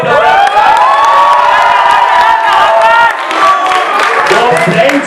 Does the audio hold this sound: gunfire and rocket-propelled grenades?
no